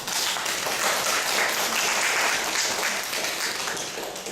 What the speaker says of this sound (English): Please welcome him with big applause